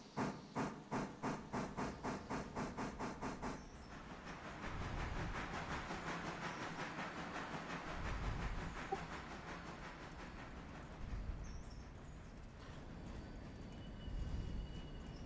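A train shunting in the Railroader game, with rapid rhythmic clacks at the start giving way to a steady rolling rumble and hiss of rail cars, faint and continuous with no voices.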